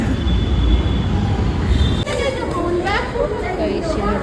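A metro train rumbles along with a steady mechanical roar and faint wheel squeal, while people talk nearby.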